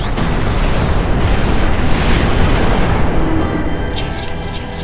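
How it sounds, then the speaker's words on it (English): A building is blasted apart and turned to dust, a loud, dense rumbling roar with crackling debris that sustains for several seconds before thinning out, with sharp high metallic glints at the start and near the end. "turns it to dust, destroying everything in it, including him, within seconds"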